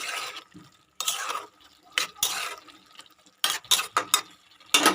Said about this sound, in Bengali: এবার এটা আমি আস্তে হাতে নাড়াচাড়া দিয়ে দেবো